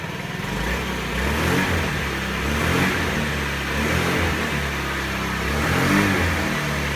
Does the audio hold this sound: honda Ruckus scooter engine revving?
yes